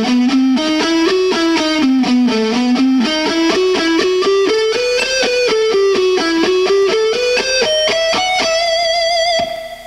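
A distorted electric guitar plays a slow ascending harmonic minor pattern, a steady run of single sustained notes climbing gradually and ending on a held tone, loud and alone.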